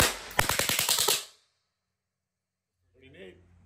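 A propane-fired prop machine gun lets off a rapid burst of about ten sharp, loud pops over roughly one second, then stops abruptly into silence, followed by a brief voice.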